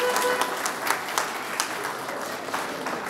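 Audience applause at a golden 50th wedding anniversary ceremony in Dărmănești, a steady wash of many hands clapping with a few sharper claps standing out, close and continuous for a few seconds.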